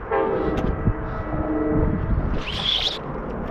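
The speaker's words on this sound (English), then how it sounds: "And here comes the train, I hear it." A train passing near an Oakland waterfront, a steady loud rumble with a brief high horn-like tone near the end, no talking.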